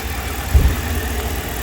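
A 2011 RAM 1500 with a 5.7L HEMI V8 and a cylinder 1 ignition coil that keeps shorting runs steadily at idle. The low, even rumble holds throughout with a small bump partway, and no one talks.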